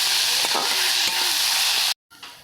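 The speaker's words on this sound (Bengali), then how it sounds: "লবণ দিয়ে দিচ্ছি ভালো করে ভেজে নিচ্ছি" Ghetkol tossed with salt crackles and sizzles loudly in a hot pan as steady frying hiss, with faint stirring scrapes, then cuts off abruptly near the end.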